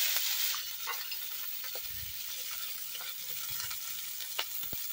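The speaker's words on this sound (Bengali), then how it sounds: "পেঁয়াজগুলো একটু লাল লাল করে ভেজে নেব" Onions hiss and sizzle in hot oil with bay leaf and dried red chili, a steady close frying crackle with faint stirring scrapes and a few sharp pops, no voices.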